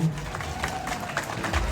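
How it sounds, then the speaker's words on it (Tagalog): An audience at a Miss Gay Christmas pageant breaks into brief, lively applause, with crowd noise and a few voices mixed in. "maaari po bang humingi ng isang sigabong palakpakan?"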